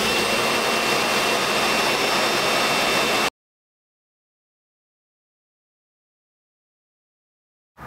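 An engine leaf blower, used for clearing leaves and snow, runs with a steady, loud rushing roar for about three seconds and then cuts off abruptly, leaving silence.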